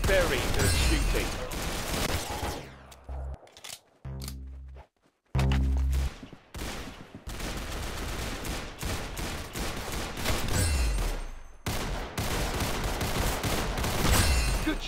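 Gunfire in the Roblox game Arsenal, with bursts of rapid electronic shots, loud and close, broken by short gaps and choppy, stuttering fragments, while voices talk over the action.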